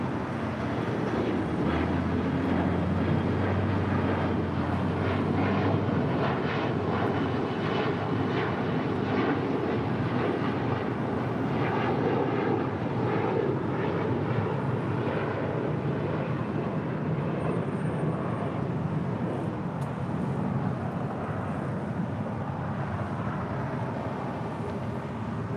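Alaska Airlines A321neo in white-nosed livery at LAX, a continuous close jet engine drone with a low rumble near the start, loud and steady throughout.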